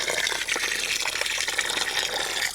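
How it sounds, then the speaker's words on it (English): Water pours steadily onto a garden plant, soaking into a small well in the soil with a continuous close splashing gush and no speech. "I'm just gonna water it like this in this little well right here"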